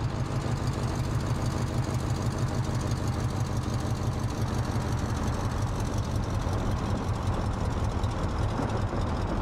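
Train in the Workers & Resources: Soviet Republic city-building game, a continuous low rumbling engine drone with faint rail clatter that holds steady and fairly loud for nearly ten seconds, with nothing else heard.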